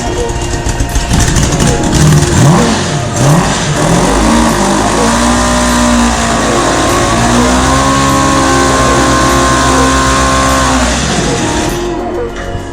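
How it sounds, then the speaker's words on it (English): Engine of a homemade tank built from a bathtub turning over and revving loudly, with its pitch swooping up and down in repeated surges before winding down at the end, close and harsh. "We're just gonna see if it even turns over the motor and then much less turns over the rear end"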